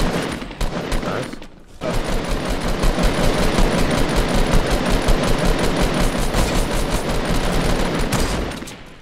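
Rapid automatic gunfire from a Fortnite match, loud and dense, a short burst first, then a brief pause and a long sustained stream of rattling shots lasting several seconds.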